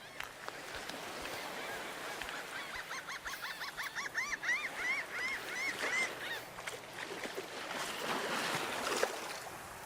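Birds at the beach honk in a loose chorus of repeated calls, moderately distant over steady background wash, with no talking.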